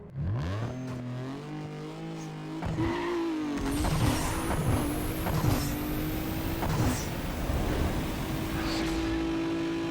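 A Mitsubishi 3000GT 3.0L twin-turbo V6 in the Need for Speed video game revs up, then launches on a quarter-mile drag run, the engine climbing loud and steady through gear changes with a rising turbo whine.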